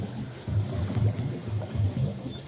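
A rowing boat out on Bhulla Tal lake in Lansdowne, with low, rhythmic oar strokes sloshing the water about every half second, close by, over light wind buffeting the microphone.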